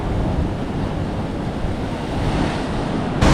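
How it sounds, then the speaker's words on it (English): At Bondi Beach, ocean waves break and wash in a continuous roar of surf with wind buffeting the microphone, and a sharp gust at the very end. "that wave just really took those people"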